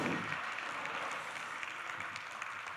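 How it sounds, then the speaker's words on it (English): An audience at a student film festival awards screening applauds steadily, a dense wash of clapping that holds at an even level for the whole stretch. "One more big round of applause."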